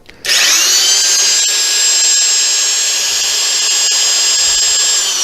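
Power drill running steadily, powered by a DaranEner NEO2000 portable power station, spinning up almost instantly into a loud, continuous high-pitched whine that holds steady for several seconds, with no talking.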